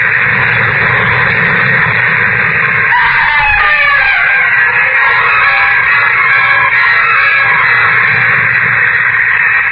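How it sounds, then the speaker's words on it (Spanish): A woman's long anguished scream, loud and wavering, rises over a roaring storm with rumbling wind that fills the whole stretch. "el grito angustioso de una mujer"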